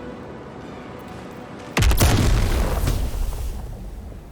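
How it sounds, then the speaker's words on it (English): Poison Spray, a druid cantrip cast in the video game Baldur's Gate 3, bursts in suddenly as a loud, booming blast with a sustained, decaying hiss after a quiet stretch. "So now we're going to try and demonstrate the cantrip Poison Spray."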